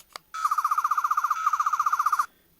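Electronic sound effect from a Doctor Who 3rd Doctor's Sonic Screwdriver toy: a rapid warbling, pulsing trill lasting about two seconds, close and fairly loud, following a faint click, with no talking.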